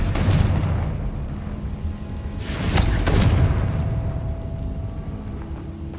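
A Confringo blasting spell in Hogwarts Legacy, two heavy booming explosions about two seconds apart, each with a loud burst and a rumbling tail fading over a low ambient hum.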